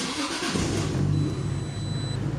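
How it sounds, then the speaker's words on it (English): A Toyota Supra engine cranks over, a loud, close, rough mechanical churn with a rising strained tone as it tries to start. "Watch, first one won't start. Second one might start. Yeah, and then third one it should fire up and idle really low."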